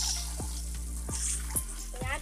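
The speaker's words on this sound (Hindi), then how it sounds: "आधा अंडे को फ्राई कर रही हूँ" Eggs fry in a pan for egg curry with a loud, continuous sizzle, cut by four evenly spaced scraping strokes as they are stirred.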